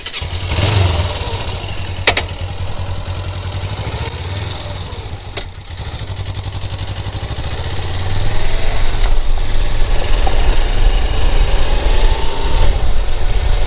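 A Suzuki GS500F motorcycle with a 17-tooth front sprocket runs loudly up close as the ride begins, its engine throbbing steadily and then swelling to a stronger, louder drone.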